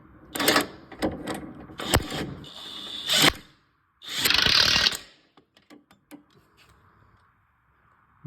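A hand ratchet clicks while tightening control arm bolts during a clutch replacement on a 2005–10 Chevrolet Cobalt, loud close bursts of rapid pawl clicking in several runs, then lighter taps and quiet.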